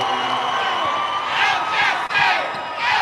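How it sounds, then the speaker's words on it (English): Fans of the Alchesay Falcons cheering at a girls' high school state championship basketball game in Prescott, a continuous roar of crowd noise with rising whoops and shouts in waves, heard from close range. "a huge Alchesay cheering contingent here in Prescott. You're going to hear them behind us"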